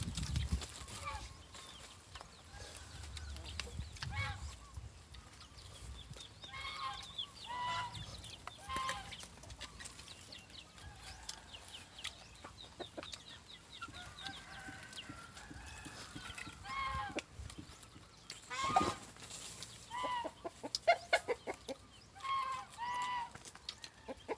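Chickens cluck and call intermittently around a rustic hut by rice fields in rural Thailand, close and moderately loud amid steady outdoor background noise, with a brief louder squawk near the end.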